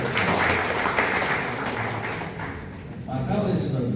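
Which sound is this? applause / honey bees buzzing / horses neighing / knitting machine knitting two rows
applause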